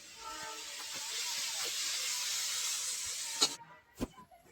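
Pressure cooker holding carrots on a gas stove, giving a sustained high hissing whistle that runs for about three and a half seconds, then cuts off and is followed by a couple of short clicks.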